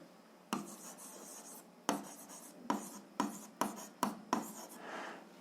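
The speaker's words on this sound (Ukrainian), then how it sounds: "Пишемо." A pen or pencil works through algebra exercises on paper, making a series of about eight crisp strokes in separate bursts with short pauses between them, close and fairly quiet, with no voices.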